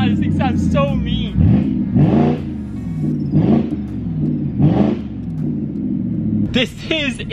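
A straight-piped BMW 650i 4.8L V8 blipped hard several times, loud raspy rev bursts over a throbbing idle, with a voice briefly heard at the start and end.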